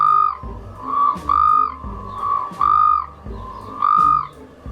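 Male desert rain frogs calling near their burrows, loud and close, giving a series of repeated squeaky whistled calls in a steady rhythm with no voices.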